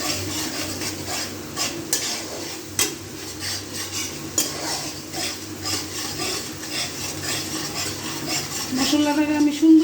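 Spice paste with salt and ginger paste being sautéed for a hilsa fish curry with taro and potato, a low steady sizzle under repeated scraping and stirring clinks of a utensil against the pan, growing louder near the end.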